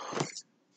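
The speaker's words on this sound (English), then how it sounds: "my niece has a cat and he's here with me chilling" A cat gives a single short vocalization, close and fairly loud, lasting under half a second before falling quiet.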